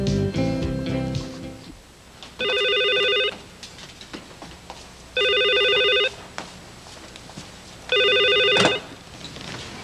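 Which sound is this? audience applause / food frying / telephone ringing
telephone ringing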